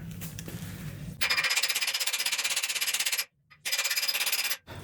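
Johnny joint being tapped into a Jeep XJ Cherokee control arm, a fast, loud run of metallic strikes lasting about two seconds, a short pause, then another burst of rapid hammer taps.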